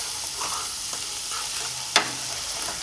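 Ground meat sizzles steadily in a frying pan as it is stirred, with a constant hiss and a sharp scrape of a utensil partway through.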